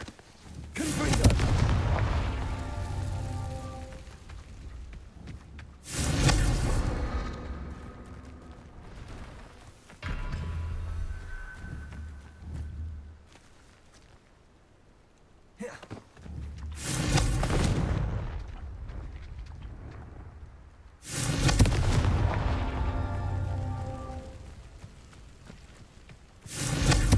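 Explosive Confringo spell blasts in the Hogwarts Legacy video game, several loud booming bursts spaced a few seconds apart, each decaying into rumbling debris and lower ambient noise between them.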